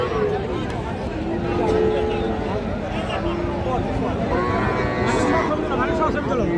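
Cattle, including Friesian and crossbred bull calves, low repeatedly amid a busy crowd, with voices talking over a constant babble of people and animals at the Raniganj livestock market.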